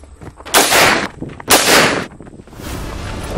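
Two loud, close sniper rifle shots from a short film, each a broad sharp blast with a long rumbling tail, about a second apart, followed by a lingering low roar.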